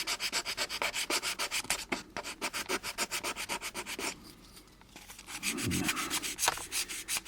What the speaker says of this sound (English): I'm going to use my cross-sanding method here.